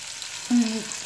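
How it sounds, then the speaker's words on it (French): Finely chopped onion, garlic and cloves frying in a pan, giving a faint steady sizzle with one brief tonal sound partway through; no talking. "Voici l'oignon coupé finement, l'ail dans la poêle et 3 clous de girofle."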